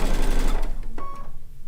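Quilt pieces run through a sewing machine, a loud, close, fast whirring patter that lasts under a second before the motor winds down and leaves a faint hum.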